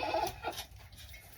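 A goat on a farm bleats once near the start, a short wavering call that quickly fades into quiet background sound.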